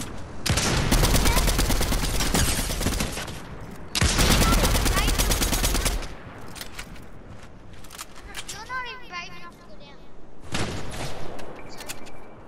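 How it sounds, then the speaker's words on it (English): Rapid bursts of automatic gunfire in the Fortnite video game come in two long, loud volleys, then break into sporadic single shots, with a voice talking between them. "I'm shooting at this dude."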